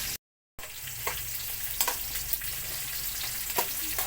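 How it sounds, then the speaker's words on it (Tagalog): Garlic and onion sauté together in a hot pan, a steady close sizzle with occasional soft stirring clicks and no talk. "Lagay na natin ng sabay yung bawang sibuyas natin."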